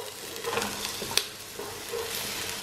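Sliced leek sizzles in olive oil in a pan for pumpkin soup, a soft steady crackle with scraping stirs and a sharp clack from the utensil partway through.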